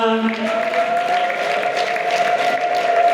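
Dense applause from a crowd at a wedding with a sustained high trilling ululation running through it, loud and continuous throughout.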